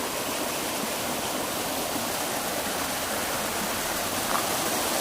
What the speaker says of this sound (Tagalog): Ganda ng agos ng tubig, oh.